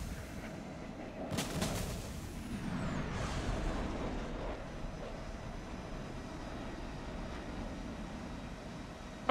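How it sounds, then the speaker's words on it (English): Fixed-wing aircraft passing in the War Thunder video game, a broad engine roar that swells near the start with a brief sharp burst, then a steady loud drone lingering throughout. "Oh, that's a plane."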